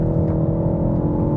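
A 2020 Ford Focus ST engine pulls under acceleration with a steady, sustained drone, heard from inside the car at moderate volume with no talk.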